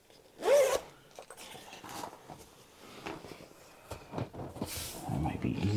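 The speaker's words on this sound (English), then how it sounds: "undo the zipper" A zipper on a Nappa white faux leather Tesla Model Y rear seat cover is pulled open in one loud, quick rasp near the start, followed by softer rustling and handling of the cover while a person talks.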